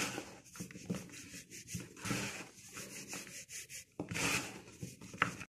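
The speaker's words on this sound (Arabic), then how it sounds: "افضل افرك كده الدقيق والسمنة مع بعض" Bare hands rub flour and ghee together in a bowl, making soft, gritty scrubbing strokes in uneven bursts with short pauses, close up and quiet.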